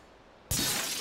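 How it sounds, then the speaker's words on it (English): Glass shatters in Super Mario Odyssey: after a quiet stretch, a sudden loud crash of breaking glass bursts in and holds as a bright, dense spray of debris noise. "Come on, break the glass, Marisco."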